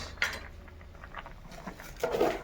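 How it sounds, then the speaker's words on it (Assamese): A spoon stirs boiling dal in a cooking pot, giving a few short metallic clinks and scrapes against the rim, spread out and fairly close. "মই দালিখন অলপ লৰাই দিওঁ দালি উতলি আছে"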